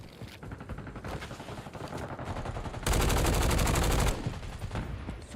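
Rapid automatic gunfire in Call of Duty: Warzone, several bursts of steady rattling shots with one long, loud, sustained burst near the middle, with no talk.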